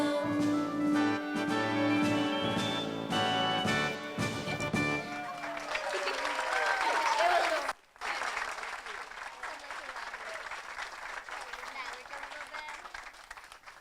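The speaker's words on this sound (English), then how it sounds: "Let's give them another round of applause." An audience at a Veterans Day ceremony breaks into sustained, loud applause that swells and carries on after music ends, with a voice speaking over the start.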